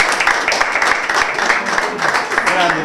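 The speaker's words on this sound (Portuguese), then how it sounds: "Aplausos para o Enigma, por favor." An audience applauds at a rap battle, a steady wash of crowd clapping lasting about three seconds. A host's voice carries over the applause.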